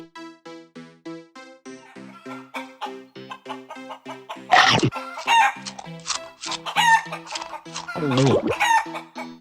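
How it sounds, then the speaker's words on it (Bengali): Cartoon chickens cluck and crow loudly in bursts over a lilting background melody, the squawks clustering in the second half. "চোখের সামনে 10টা মুরগি"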